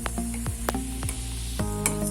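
Maddur vada deep-fry in hot oil with a steady, dense sizzle, while occasional light clinks and scrapes of a utensil sound close by and no one speaks.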